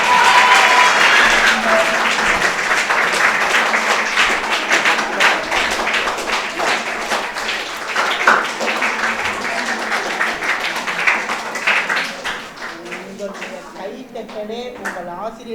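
Students clap for a teacher at a government high school event, a loud, dense crowd applause that runs steadily throughout and thins toward the end.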